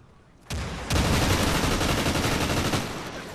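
Sustained automatic gunfire from the Drop Zone mode of a shooter game: one short burst, then a loud continuous volley of rapid shots lasting about two seconds before it cuts off, with no talking over it.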